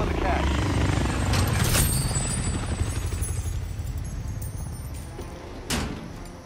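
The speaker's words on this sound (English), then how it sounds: "Enemy attack chopper is in the AO." An enemy attack helicopter in the Modern Warfare video game, a loud, steady rotor thrum with a few sharp clanks and bursts on top, while voices speak over it.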